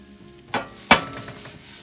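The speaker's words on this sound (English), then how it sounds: "Saute that off a little bit" A pan of tomato basil sauce being sautéed with black pepper and salt: two quick scrapes or clinks of a utensil against the pan over a faint, low background sizzle, close and fairly quiet.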